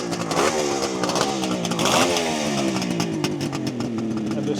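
A 1972 Kawasaki H2 750 Mach IV two-stroke motorcycle revving up close and loud, its raspy engine note climbing and falling in two quick surges before settling into a sustained buzzing rev.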